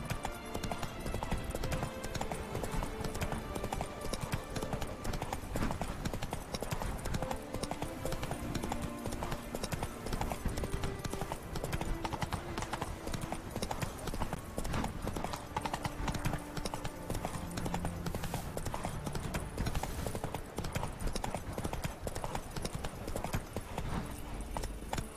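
A horse gallops through The Witcher 3, its hooves drumming in a dense, continuous clip-clop over a full, busy backdrop of game sound, loud and close throughout.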